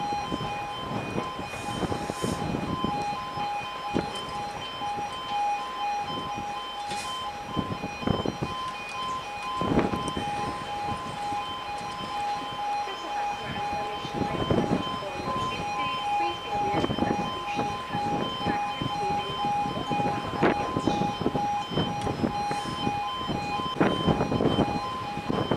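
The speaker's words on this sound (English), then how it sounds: "We are awaiting for the level crossing to go down because there's a train coming." A level crossing alarm sounds at Ardrossan Town station as a train approaches, its steady, sustained electronic tones ringing on and on over distant rumbling and clattering, with faint talk at times.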